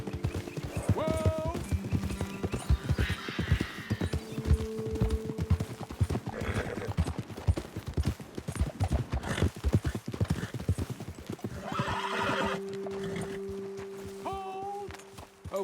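Horses in Red Dead Redemption 2 gallop with steady clip-clopping hooves across the whole stretch, broken by a couple of loud neighs and whinnies early and again near the end, with brief voices over the top.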